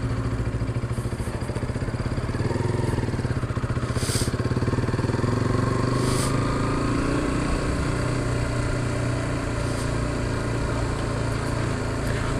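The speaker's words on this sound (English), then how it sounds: "because of this Acra exhaust in it, it sounds really good as well" A 2015 KTM RC 125 sport motorcycle with an aftermarket Akrapovic exhaust drones steadily and loudly throughout, a continuous mid-pitched buzzing exhaust note with a few faint higher clicks on top.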